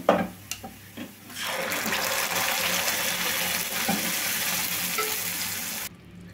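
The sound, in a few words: pouring cooked lentils (dal) into tempering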